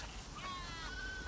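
Sheep bleating in the video game The Last of Us 2, a short wavering bleat rising out of a noisy game soundscape, moderately close but quiet.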